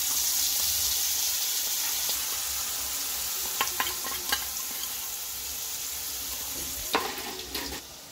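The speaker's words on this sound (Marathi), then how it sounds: "त्यानंतर आपण ही मसाल्याची पेस्ट जी केली होती ती आपण तेलामध्ये टाकणार आहोत." Spice paste hits hot oil in a pan after roasted garlic, giving a steady, bright frying sizzle with a few light clinks of a utensil stirring partway through.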